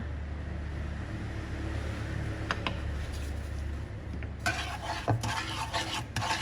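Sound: stirring chili paste with vinegar in a pan

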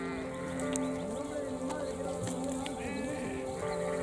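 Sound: sheep bleating in a flock

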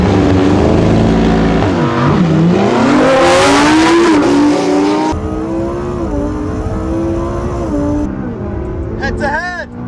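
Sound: Lamborghini Huracan STO and McLaren 600LT drag racing

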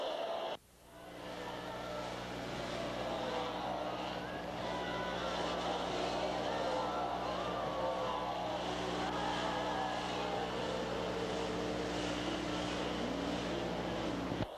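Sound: flat track motorcycles racing on Ascot Park half mile

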